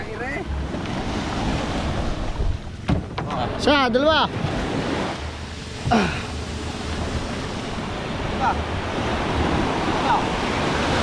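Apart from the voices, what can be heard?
big ocean waves at the shore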